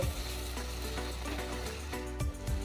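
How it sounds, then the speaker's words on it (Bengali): Pointed gourd and prawns fry in spiced oil, giving a steady close sizzle with scraping stir strokes and clatters of a utensil against the pan. "এই অবস্থায় দিয়ে দেব এই পটল আর চিংড়িটা এটাও ভালো করে কষে নেব"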